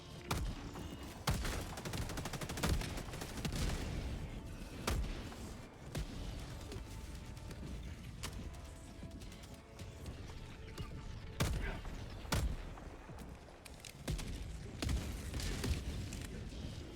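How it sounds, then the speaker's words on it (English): Orbital barrage from the Helldivers 2 video game: a dense, continuous string of explosions and blasts, with sharp loud impacts at irregular moments over steady rumbling battle noise. "Requesting orbital! Orbital barrage incoming."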